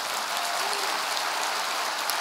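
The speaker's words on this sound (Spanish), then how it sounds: "dale un aplauso al Rey bendito" Congregation applauding during a church service, a dense steady patter of clapping hands at moderate distance that holds evenly for a couple of seconds.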